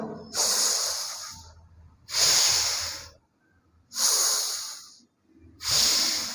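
Four loud, breathy exhalations follow a yoga exercise for heel pain, each a forceful hissing out-breath lasting about a second, separated by short quiet pauses in a steady rhythm, close to the mic with no talking.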